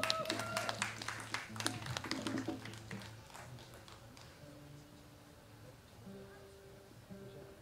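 An audience at a small live-music venue claps to welcome a band, with brisk applause in the first few seconds that thins and fades over a low sustained tone.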